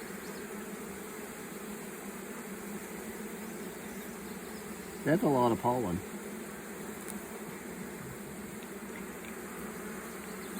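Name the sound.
honeybees buzzing in an open beehive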